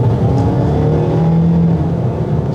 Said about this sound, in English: You can tell it makes a lot of noise to get it where it wants to go.